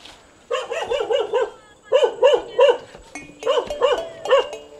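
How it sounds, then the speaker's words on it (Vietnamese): Several dogs bark in repeated bursts, close and loud, with short pauses between volleys and no talk over them. "tôi có nghe thấy những cái tiếng chó sủa"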